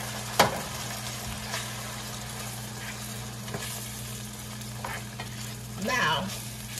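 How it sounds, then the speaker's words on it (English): Canned tomato sauce, a 15-ounce can, goes into a hot pan for Panamanian Johnny Marzetti pasta, giving a low steady sizzle with a few scraping stirs and one sharp clink near the start, no talking. "we're gonna add our 15 ounce can of tomato sauce"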